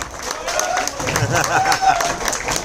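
A club audience in Mumbai applauds as guests are called up onto the stage, with a ragged, fairly loud wash of clapping mixed with music and a voice talking over it.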